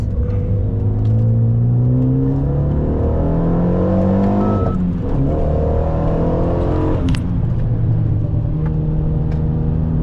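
A Legend GT race car engine on a circuit, loud and close throughout, its pitch climbing through several gear changes with a brief dip mid-way before rising again, no talk over it.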